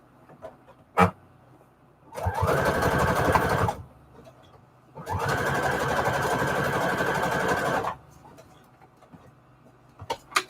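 A sewing machine stitches junk journal signatures of book paper with lace edging in two loud sustained runs of about one and a half and three seconds, separated by a pause, with small clicks before and after.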